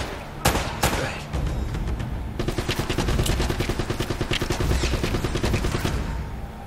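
Rapid automatic turret fire in Uncharted: Drake's Fortune, a couple of loud single shots followed by a long steady burst of evenly spaced rounds, close and loud.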